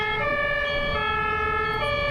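A German ambulance siren wails loudly and nearly, its steady two-tone pitches dominating over faint road traffic.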